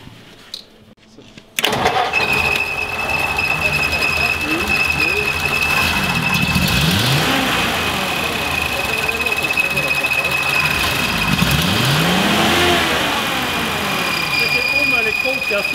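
A cold car engine in a workshop cranks and catches, then runs loudly at close range, rising and falling in a couple of revs while voices talk over it.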